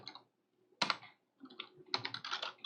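Close-up clicks from a computer keyboard being typed on, Shift held for capital letters, arriving in three short bursts of rapid keystrokes separated by brief silent pauses.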